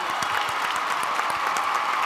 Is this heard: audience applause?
yes